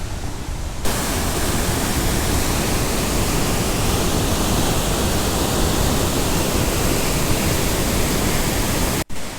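Water spilling out of Baha Lake (Khukush) near Shandur in Ghizer District, Gilgit Baltistan, tumbles down as a waterfall, a loud, steady, broadband roar filling the whole stretch with no voices, cutting off briefly near the end.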